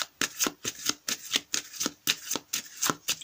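Tarot cards are shuffled by hand before a seven-card spread, a close series of quick riffling bursts repeating in an even rhythm, roughly a dozen brisk strokes.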